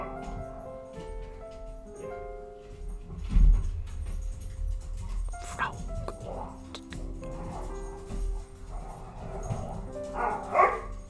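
A dog barks in Frog Detective 3: Corruption at Cowboy County, a video game, with a few clear barks rising over soft game music and ticking sounds.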